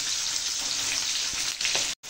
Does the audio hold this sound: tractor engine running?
no